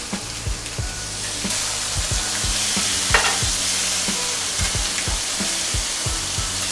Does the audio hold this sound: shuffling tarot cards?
no